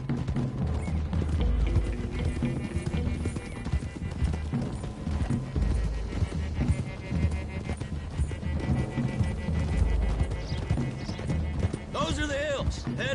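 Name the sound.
horses' hooves riding in Red Dead Redemption 2 video game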